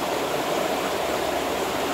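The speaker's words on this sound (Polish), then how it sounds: "Posłuchajcie relaksującego szumu wody." Steady rushing water of the Schussen river flowing outdoors, a continuous broadband roar that stays even and close throughout with no voices.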